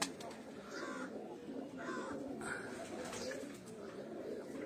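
English pigeons in a fancier's loft make faint, soft repeated cooing calls among general loft noise, heard from a short distance and fairly quiet.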